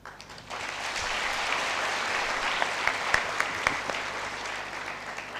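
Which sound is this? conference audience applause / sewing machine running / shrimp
conference audience applause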